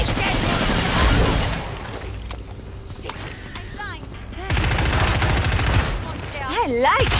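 Rapid bursts of gunfire from shooting enemies in Killing Floor 2 on Hard difficulty, loud clustered shots in two volleys separated by a quieter stretch, with brief game voice and effects in between.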